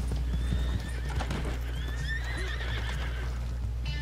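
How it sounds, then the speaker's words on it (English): Horse hooves clip-clopping at speed with a rising, wavering whinny in the Red Dead Online video game, close and clear over low background rumble. "your horse just bucked me"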